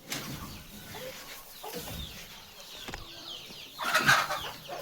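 Chickens in the broody hen compartment of a farm shed give sparse, quiet clucks and a few scattered calls, with a brief louder flurry near the end.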